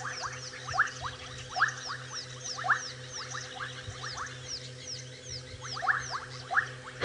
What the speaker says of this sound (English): These bubbling casinas are so loud.